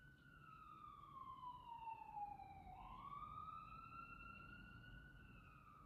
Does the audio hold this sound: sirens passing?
yes